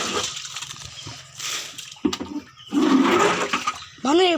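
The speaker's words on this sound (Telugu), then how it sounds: "ఇక్కడ బాను వాటర్ని అట్ట క్లీన్ చేస్తున్నాడు" Water is scooped and emptied out of a tank during cleaning, heard as intermittent splashing and gushing bursts separated by short quiet gaps, fairly close, with a rising swoosh at the end.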